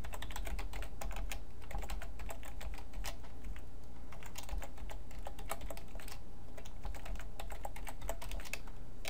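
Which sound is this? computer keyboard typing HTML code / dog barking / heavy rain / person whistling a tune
computer keyboard typing HTML code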